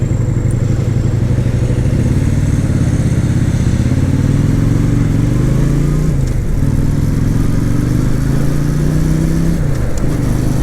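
Motorcycle ridden on the road on new tyres, a loud steady engine drone with wind noise throughout, pitch rising and shifting with throttle, close to the rider and with no talk.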